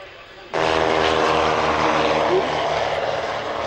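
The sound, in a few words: Hawker Hunter jet aircraft taking off at airshow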